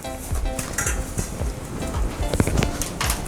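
Flaming Hot Cheeto quesadilla sizzling steadily in a hot pan, with scraping and clinking as a spatula works under it to flip it, close and continuous.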